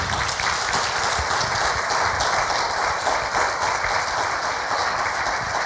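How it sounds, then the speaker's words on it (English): Sustained round of applause from a morning forum audience at an elected officials' event, honoring young people from Richmond schools; dense, steady clapping fills the whole stretch with no voices. "can we just ask them to stand up really quick and accept a round of applause?"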